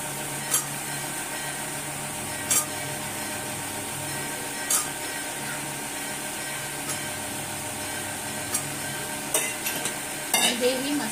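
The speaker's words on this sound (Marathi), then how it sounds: "आणि हेही मसाल्यांसोबत परतून घ्यायचे" Soaked chickpeas being stirred and sautéed with masala, a low continuous frying hiss broken by occasional spatula scrapes and clinks against the pan, close but fairly soft.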